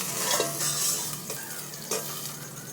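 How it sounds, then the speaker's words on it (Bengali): Fish fries and is stirred in a pan, a steady close sizzle broken by several scraping strokes of a spatula against the metal. "মাছটা দিলে ভাজা যাবে আর আমার মাছটা পুরো ভাজা কমপ্লিট"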